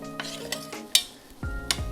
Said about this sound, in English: then I want to get in there and give it a stir.